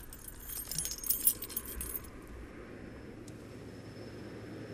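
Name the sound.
keys jangling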